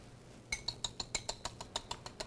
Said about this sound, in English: we're just going to whisk these